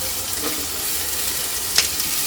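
Onion goes into hot oil with curry leaves for a prawn pulao, producing a soft, continuous frying hiss at moderate distance with one brief louder crackle near the end, no voices.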